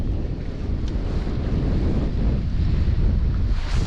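Cool wind blowing steadily outdoors in a park in summer, a continuous broad rushing buffet against the microphone that swells slightly toward the end, with no voices.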